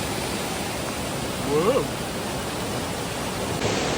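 Loud, constant rushing floodwater roars close by during heavy rain in the Malnad hills near Koppa, a broad churning wash with a brief swell midway.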